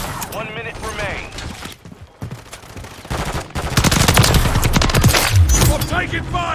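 Rapid gunfire erupts in a Call of Duty MW3 battle, with scattered shots building into dense, loud volleys of automatic fire alongside shouted voices.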